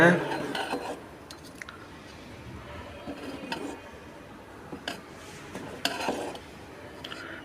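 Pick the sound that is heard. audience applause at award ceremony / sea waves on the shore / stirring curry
stirring curry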